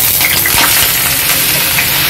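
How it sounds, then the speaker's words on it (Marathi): Grated bottle gourd is sautéed in a pan while being made into kheer, a loud, continuous close sizzle broken by brief scraping stirs, with no talking. "त्याला छान मऊ होईपर्यंत आपल्याला परतायचं"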